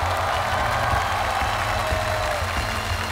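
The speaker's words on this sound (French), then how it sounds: "Accueillons tout le monde avec des applaudissements." Studio audience applauding at a Chinese calligraphy television show, a steady dense patter of clapping that fills the room throughout, moderately loud with no speech over it.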